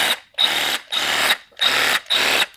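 A Milwaukee Fuel cordless power tool runs with no blade fitted, giving four loud, close bursts of motor whine with short gaps between them and no talk.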